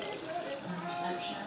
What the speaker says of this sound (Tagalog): Dagdagan din ng isang basong tubig.